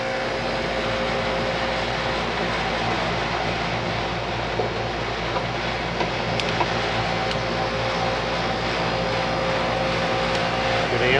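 A residential air conditioner's cooling system runs steadily just after startup, a dense, constant mechanical hum and whoosh with low tonal drone, close and unchanging, with a few faint clicks.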